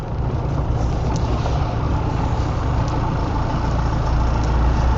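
A heavy vehicle rolls past on the road close by, a loud rumbling engine with a deep low drone that swells slightly toward the end. No one speaks over it.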